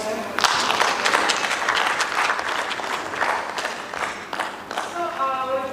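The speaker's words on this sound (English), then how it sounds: "We can clap for them." A crowd at a sanitation hackathon in Western Kenya applauds loudly, a dense sustained wash of clapping that carries on for several seconds before briefly thinning near the end as a voice starts in.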